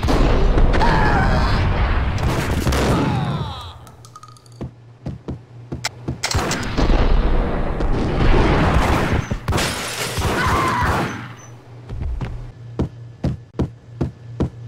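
Sharp gunshots in the video game Max Payne, a scattered series of loud single cracks and booms, some in quick succession, mixed with dense action noise early on and spaced shots toward the end.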